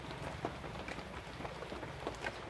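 Steady rain falls in an outdoor roadside setting, a continuous hiss with faint scattered drop patters, moderately quiet and without talking.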